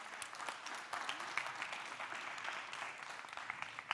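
Faint, distant applause from an audience at a youth leadership conference, a dense patter of clapping sustained for a few seconds without a voice over it.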